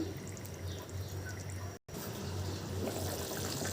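Curry gravy is poured over fish in a pot with a soft, steady liquid trickle and splash, heard fairly close and quiet, with a brief dropout midway.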